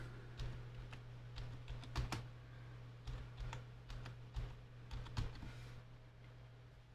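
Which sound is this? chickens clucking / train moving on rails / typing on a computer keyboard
typing on a computer keyboard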